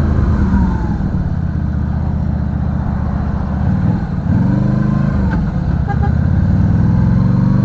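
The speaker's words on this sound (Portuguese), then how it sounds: "Essas motos aí, nessa hora aqui" Motorcycles and other traffic move along a street in Porto Alegre, a continuous loud engine drone with rising and falling pitch as vehicles pass nearby, and no talk over it.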